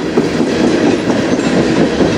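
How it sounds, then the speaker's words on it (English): CN freight train passing on the Strathroy Subdivision, a loud, close, continuous rumble of wheels on rail with steady clatter throughout. "Yeah, definitely a short train again."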